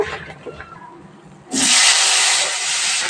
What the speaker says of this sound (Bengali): এবার একই তেলে হচ্ছে আমি ফুলকপি আর আলুগুলাও ভেজে নিব